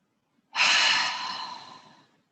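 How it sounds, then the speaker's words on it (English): During a calm meditation, one long, deep, close breath flows out, starting strong and fading gradually over about a second and a half, alone in near silence. "see if we can take some deep in breaths."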